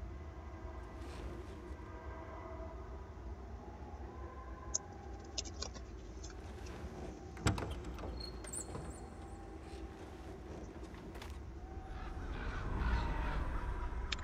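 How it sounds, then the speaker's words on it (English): Crows caw in a few scattered, fairly distant calls in Life Is Strange: Before the Storm, set over a quiet, low ambient rumble with no talking. "Crows are always a bad sign."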